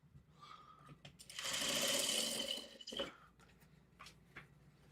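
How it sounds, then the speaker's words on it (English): Sewing machine stitching together gray fabric squares, a steady mechanical whir running for about a second and a half and then stopping, with quiet handling noises before and after. "So I'm going to just use up all of these gray squares and sew that."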